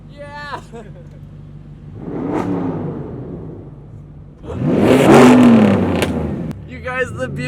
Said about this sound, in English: the Buick is revving